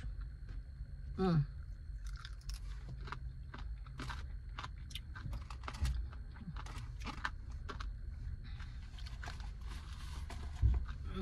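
Soft, irregular crunching and chewing of an extra crispy honey garlic Korean fried chicken wing, heard up close and quiet, with a short vocal sound near the start.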